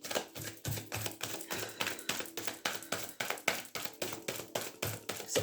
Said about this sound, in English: we're going to give it a shuffle